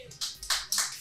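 Audience applause in a live bar talk-show setting, heard as short bursts of clapping swelling in waves, fairly close and loud, with no speech over it.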